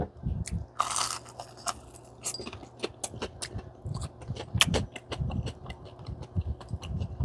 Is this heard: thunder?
no